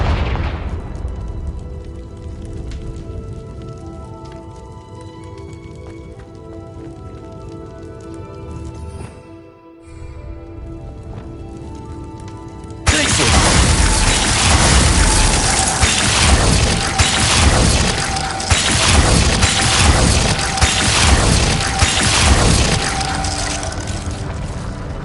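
Spell explosions go off in the video game Hogwarts Legacy. A booming blast hits about midway and gives way to a loud, roaring rumble with repeated bursts that carries on steadily, after a quieter stretch of game ambience.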